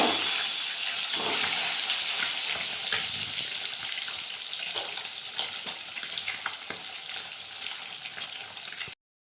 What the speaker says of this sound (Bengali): দিয়ে আমি ডিমটা আগে ভেজে নিব